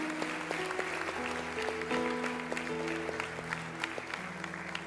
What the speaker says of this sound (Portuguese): Aplauda o Senhor bem forte nessa noite.